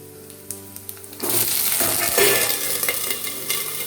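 Potatoes are stirred in a hot pan for a Bengali mixed-vegetable dish in mustard sauce, with a few light clinks, then a loud, steady sizzle with scraping as they are turned.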